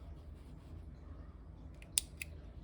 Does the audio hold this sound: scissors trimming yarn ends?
yes